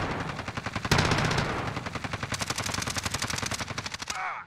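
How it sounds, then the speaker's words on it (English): An automated sentry gun fires rapid, evenly spaced bursts in a Call of Duty Modern Warfare battle royale match, loud and close, starting with a sharp report and settling into a steady rattling stream before cutting off. "Sentry gun yun!"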